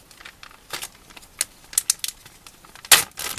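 Salted steak being slid into a plastic bag: quiet crinkles and rustles of plastic with a few sharper crackling bursts, irregular and close, with no talking.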